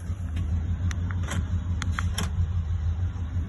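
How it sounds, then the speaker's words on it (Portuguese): A 2019 Ford Explorer engine idles steadily after starting, with a constant low rumble and a few faint clicks and beeps over it, close by. "Vamos ver, o carro ligou."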